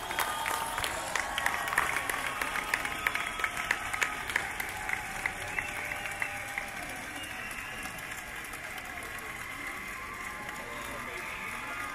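Applause and cheering from a large crowd at a Celebrate Recovery gathering, a steady dense wash of clapping with scattered whoops, loud and sustained throughout without easing off.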